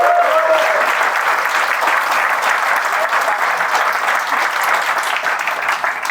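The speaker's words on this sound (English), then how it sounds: "So give yourself a round of applause." A roomful of people applauding at a motivational talk on goal setting, a full, continuous wash of clapping lasting about six seconds.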